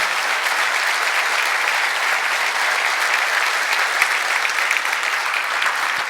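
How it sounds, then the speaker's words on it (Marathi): An audience breaks into steady, sustained applause, a dense even wash of many hands clapping at once that holds for several seconds without any talk over it. "त्यासाठी एक जोरदार टाळी झाली पाहिजे"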